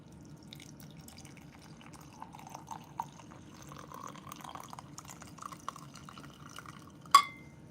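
Liquid pours from a Mueller kettle with a soft trickling and dripping against a steady low background hum, ending in a sharp clink near the end.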